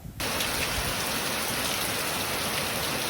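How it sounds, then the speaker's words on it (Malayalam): Heavy rain pours down steadily in a dense, continuous hiss that starts abruptly and stays loud throughout, with no voices. "പുറത്താണെങ്കിൽ നല്ല അസല് മഴ തകർത്ത് പെയ്യുന്നുണ്ട് കേട്ടോ"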